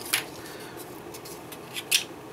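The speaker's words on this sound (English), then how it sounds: "just going to use my good scissors." Tamiya scissors snipping through a plastic model part for rocket tubes, two short crisp cuts near the start and end, close and quiet over a faint room hush.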